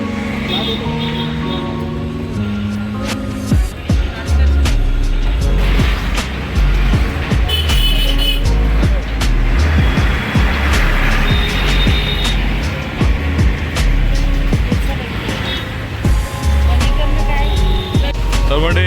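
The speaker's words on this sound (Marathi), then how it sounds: "एकदम रहदारीचा रस्ता आहे हा" Heavy traffic rumbles steadily past a busy roadside fish market in Virar, with engines and street noise forming a dense, continuous wash and voices mixed in throughout.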